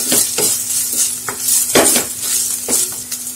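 A spoon stirs a layer of tricolour pulao in a pan, scraping and clinking in repeated strokes over a soft background sizzle, close and fairly loud with no talking.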